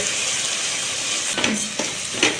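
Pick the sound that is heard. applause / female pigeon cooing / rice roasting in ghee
rice roasting in ghee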